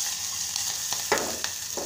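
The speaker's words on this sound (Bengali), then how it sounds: "খুব বেশি ভাজবো না, হালকা ভাজা করবো" Shredded cabbage fries lightly in a pan for a Bangladeshi Mughlai paratha, making a soft, even sizzle broken by a few short scrapes and clicks of stirring.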